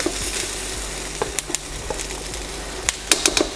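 Garlic and ginger sizzling in hot oil in a wok while cooking Thai-style cashew chicken, a steady close frying hiss with scattered light clicks and scrapes of stirring, no voices.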